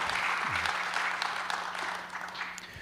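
Audience in a church lecture hall applauding a deacon after a letter reading, a steady dense clapping that holds for about three seconds at moderate level with a faint tone underneath.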